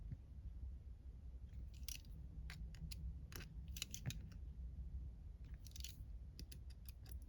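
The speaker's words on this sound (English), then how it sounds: "Just going to cut it." Scissors snip through a paper strip, several crisp, quiet cuts in uneven bursts, some quick double snips, over a low background hum.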